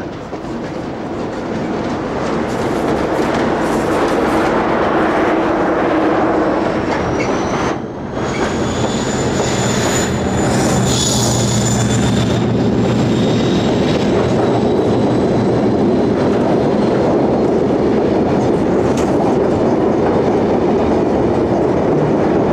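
A locomotive-hauled freight train rolls past at Salisbury in 1996: a loud, steady rumble with clattering wheels and thin squealing tones rising over it, briefly dipping midway, with no voices.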